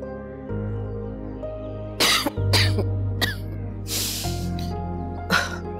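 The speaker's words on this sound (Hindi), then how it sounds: "मौसमी बुखार है, ऐसी खांसी हो जाती" A person coughs several times in short harsh bursts, attributed to a seasonal fever, heard close over quiet background music in a TV drama scene.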